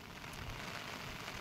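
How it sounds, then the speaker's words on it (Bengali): A steady hiss of rain falls during a storm in the Sundarbans, dense and continuous with no voices. "বাইরে ঝড় হচ্ছে আর সেই সাথে বৃষ্টিও পড়ছে।"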